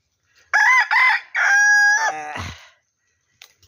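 A native mestizo rooster gives one loud, close crow with a clipped start and a long drawn-out final note, followed by a brief rustle and then quiet.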